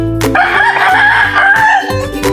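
A native rooster crows loudly and close by in one long, drawn-out call, with other chickens faintly clucking behind it.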